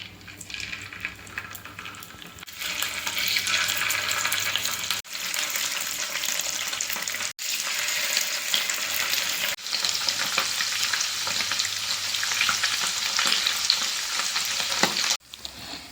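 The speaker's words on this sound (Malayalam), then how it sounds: "ഇനി ചൂടായ എണ്ണയിലേക്ക് നമുക്ക് ഫിഷ് ഓരോന്നായിട്ട് ഇട്ട് ഫ്രൈ ചെയ്തെടുക്കാം." Pieces of masala-coated fish fry in hot oil, a loud, dense sizzle that runs nearly throughout with a few short drops and stirring or handling noises, and no voices.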